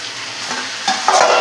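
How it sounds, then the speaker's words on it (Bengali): Half-fried potatoes and eggplant sizzle and crackle steadily in a pan on a low flame, with stirring scrapes in a loud, close, continuous fry. "বেগুন আলুগুলো হাফ ভাজা হয়ে গেছে"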